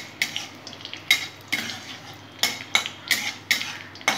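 Mustard seeds and green chillies fry in a pan while a utensil stirs and scrapes, giving about ten sharp metallic scrapes in an uneven rhythm over a faint sizzle.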